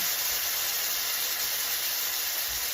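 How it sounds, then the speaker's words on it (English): A steady, loud hiss of lamb chops searing in hot oil, constant and close with no voices. "Sizzling away, and in we go."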